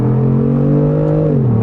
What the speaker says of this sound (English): A little bit of brake torquing, doesn't let me do much, and there's the launch.